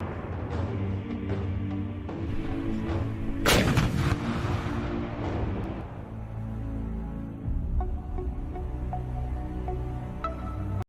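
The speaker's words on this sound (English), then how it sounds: "Notice how it's being used, the range here. It's artillery." Self-propelled artillery firing in the Ukraine war: a loud, sharp blast near the middle, followed by a long rumbling decay and a few fainter distant thuds, with no one talking.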